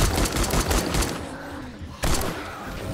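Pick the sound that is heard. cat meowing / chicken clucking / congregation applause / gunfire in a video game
gunfire in a video game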